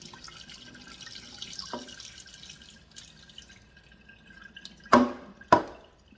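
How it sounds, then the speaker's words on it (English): Quiet water sloshing and trickling as rice is rinsed in a bowl, followed by two sharp splashy pours of water near the microphone. "This is like really washing the rice."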